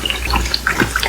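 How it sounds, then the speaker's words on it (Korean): Battered eggplant and sweet potato deep-fry in a small amount of hot oil, giving a steady close bubbling and crackling hiss with scattered pops. "저는 이 보글보글 소리가 너무 좋은 것 같아요"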